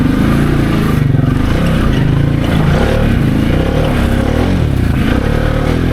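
A Can-Am Outlander XMR700 ATV on 32-inch Aztec tires drives over fire berms, its engine droning loud and close, steady throughout, with suspension clatter and scraping mixed in.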